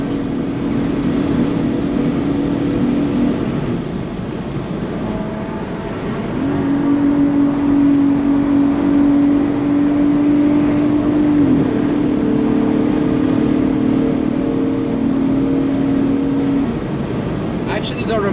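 A VW Atlas Harlequin carrying four people climbs a hill at high speed, its engine droning steadily and rising in pitch, with road and wind roar around it while occupants talk in the cabin.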